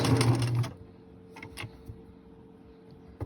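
Sewing machine back-stitching a fabric mask, a brief loud whirring run of rapid needle strokes that stops abruptly, followed by faint clicks and light handling noises in a quiet room.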